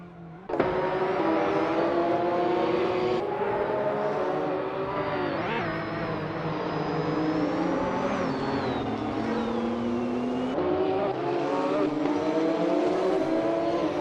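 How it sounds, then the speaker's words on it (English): Racing cars including a Porsche 911 GT1 roar continuously in a retro street car race in a racing video game, engines revving and shifting pitch as they pass, loud and steady throughout. "The retro street cars in this race are providing tight competition, particularly with the Porsche 911 GT1 dominating the top positions."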